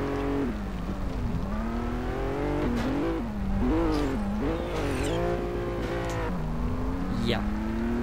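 A car engine in the racing game Test Drive Unlimited 2, revving up and down through gear changes with a few tire squeals, loud and steady throughout.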